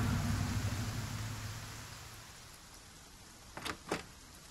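Heavy rain in the video game Shiny Colors makes a steady broadband hiss that slowly fades, followed by two short swishing sounds near the end.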